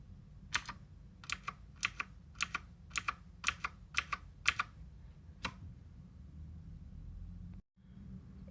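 About a dozen crisp, clacky key presses on an Aukey KM G12 mechanical keyboard tap out at an uneven pace, then stop, leaving a quiet room hum.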